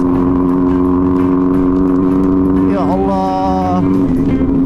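A motorcycle rides along a rough dirt road in Flores, East Nusa Tenggara, its engine droning steadily close by and briefly rising in pitch as it revs, with a voice in the background.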